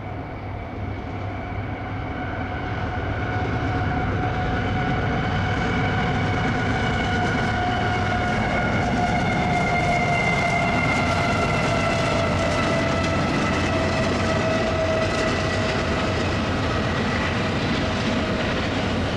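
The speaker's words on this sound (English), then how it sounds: "Symbol on that train is CSX" A CSX freight train rolls past with a rising rumble and steady wheel noise, tonal locomotive engine drones holding throughout, loud and near, no talking.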